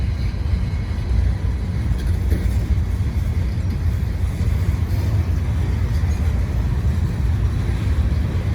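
A long freight train with a DPU locomotive rolls past close by in a steady, loud, continuous rumble with rattling wheel and car noise and some wind buffeting, no break throughout.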